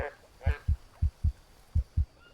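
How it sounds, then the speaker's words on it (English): Video game Green Hell heartbeat effect: six deep, thudding low beats in a steady rhythm, spaced about a quarter to half second apart, close and prominent, with brief faint voice-like sounds near the start. "No, I can't take the sound of the heartbeat."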